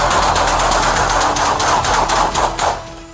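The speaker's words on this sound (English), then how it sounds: "The street erupts in gunfire, ending the pursuit in seconds." A street erupts in rapid gunfire during a police shootout with an armed suspect. Loud, dense bursts of shots crackle in quick succession, close and harsh over a noisy background, with no speech.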